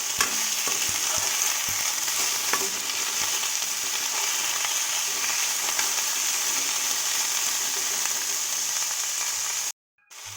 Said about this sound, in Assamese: এতিয়া বিলাহীখিনি দি আকৌ অলপ সময় কাৰণে ভাজিম।